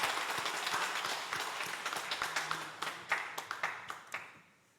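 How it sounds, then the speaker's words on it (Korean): A church congregation claps in thanks during a Sunday morning service, a dense, steady patter of many hands that thins into scattered louder claps before stopping, with no talk over it. "우리 감사 박수 한번 하겠습니다"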